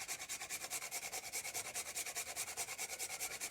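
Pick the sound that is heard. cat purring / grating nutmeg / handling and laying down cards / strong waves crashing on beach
grating nutmeg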